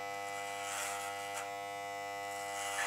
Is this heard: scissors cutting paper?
no